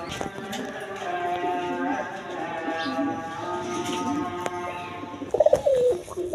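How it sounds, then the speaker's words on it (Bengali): Soft, steady cooing from a pair of pigeons, a male and a female, at a pigeon sale. It sits over a low background hum, with one brief, louder call near the end. "দর্শক এইখানে এক পেয়ার কবুতর আছে।"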